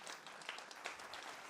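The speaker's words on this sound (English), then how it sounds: "Give yourselves a round of applause, everybody." Audience applause fills a Call of Duty Black Ops 6 tournament venue, a steady dense wash of many hands clapping for the whole short stretch, moderately loud and without talk.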